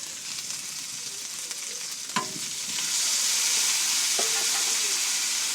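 Spice paste sizzles and fries in a pan, a steady hiss that swells louder partway through, with a couple of sharp utensil knocks as it is stirred.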